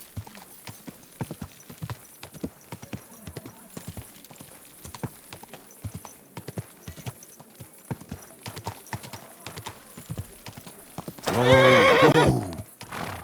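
In the video game Kingdom Come: Deliverance II, steady clip-clop of horse hooves at a walking pace, followed near the end by a loud, close neigh.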